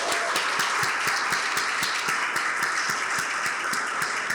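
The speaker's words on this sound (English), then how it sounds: "let's have one more round of applause for all of these companies" Sustained audience applause fills a room at an innovation showcase evening, dense steady clapping from a sizable crowd with no talk over it.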